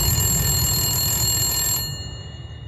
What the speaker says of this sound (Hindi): टेलीफोन तो खराब है ना? हाँ, फिर ये बज कैसे रहा है?